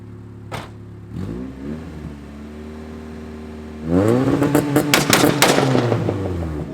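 A 1994 Honda Civic EG hatchback engine revs up and holds, then climbs again into a loud stretch of rapid two-step popping and crackling bangs, close by.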